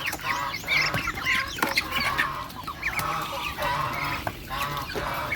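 A flock of chickens busily clucks and squawks while eating a breakfast of watermelon, their calls overlapping in a dense, lively chatter close by with no voices heard.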